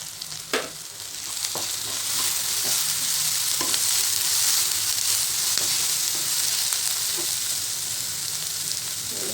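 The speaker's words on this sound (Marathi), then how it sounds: "कांदा छान परतलेला आहे, त्यामध्ये घालायची शिमला मिरची." Chopped onion and capsicum sauté in a hot pan for paneer bhurji, a steady broadband sizzle running throughout with occasional spatula scrapes and stirring clicks, close and fairly loud, no voices.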